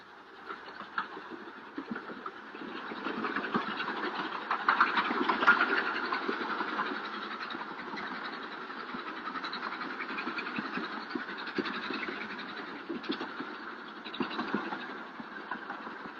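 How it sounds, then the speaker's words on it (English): A mountain train climbing toward Darjeeling rumbles along with a steady engine drone and faint rhythmic clatter of wheels on track, moderately distant, swelling slightly midway. "the train winds its way up through the mountains"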